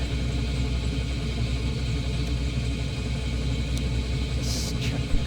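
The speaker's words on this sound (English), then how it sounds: "Rotor's spinning." Helicopter rotor spinning in Microsoft Flight Simulator, a steady loud low rumbling drone with no clear beat, continuous throughout with a brief click near the end and no talking.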